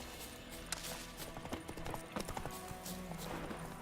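Roach, the horse in The Witcher game, gallops up when called, with a quick run of close hoof clip-clops over a faint background.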